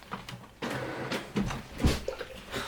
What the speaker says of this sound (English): I'm going to just print on my printer again.